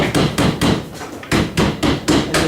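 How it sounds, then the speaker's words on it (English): A hammer knocks down protruding nails on wooden greenhouse shelves, a close, loud series of about eight sharp strikes in two quick rhythmic groups separated by a short pause. "So I'm just gonna take my hammer and just kind of go through"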